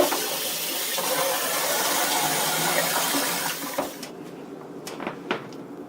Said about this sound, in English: Give these noodles a quick rinse under cold water